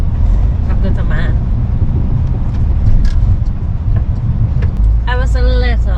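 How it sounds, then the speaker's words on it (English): MAN truck driving on the road, a loud close cab rumble of engine and road noise throughout, with someone talking over it near the end. "So, I'm driving on a MAN."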